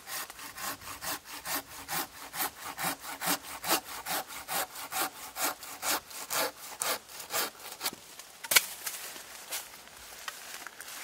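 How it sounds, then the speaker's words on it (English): A Silky hand saw cuts through a branch of green wood in close, regular rasping strokes, about two per second, slowing and fading toward the end with a sharp snap near the finish. "I'll cut this through here."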